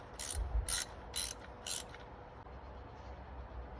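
A ratchet tightens a part on a pit bike, four quick bursts of sharp clicking close by, then quiet.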